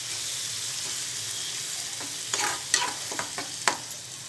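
Onion paste frying in a pan for egg pulusu, a steady sizzling hiss with a few sharper crackles and stirring scrapes toward the end, close and alone.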